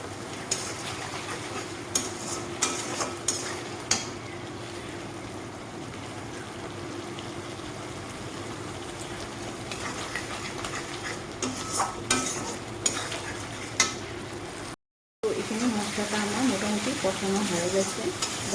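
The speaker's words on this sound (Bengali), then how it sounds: "এইভাবে মশলাটাকে ভালোভাবে কষিয়ে নিয়ে" Spice paste stir-fried in oil for a vegetarian Bengali dish, with steady scraping and stirring of the ladle against the pan over a soft sizzle, continuous throughout and briefly cut out near the end.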